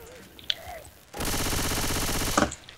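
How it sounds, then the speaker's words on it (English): Rapid automatic gunfire shooting zombies in the Left 4 Dead 2 video game, a dense continuous burst lasting over a second after quieter game sounds, close and loud, ending with a few clattering clicks. "Shoot that zombie in the back."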